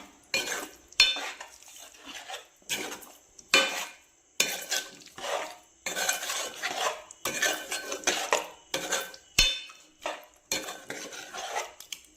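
Chicken pieces coated in masala are stirred in a pan with repeated metal spoon scrapes and clanks, close and rhythmic, arriving in short bursts with faint sizzling between them.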